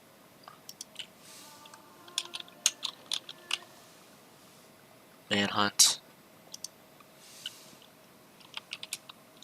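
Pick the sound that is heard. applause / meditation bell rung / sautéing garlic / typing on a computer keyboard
typing on a computer keyboard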